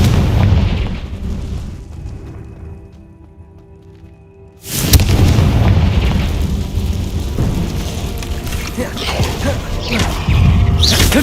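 Confringo explosive spell blasts in Hogwarts Legacy, inside a cave: a deep booming explosion erupts after a quieter stretch, followed by sustained rumbling blast noise and further loud impacts.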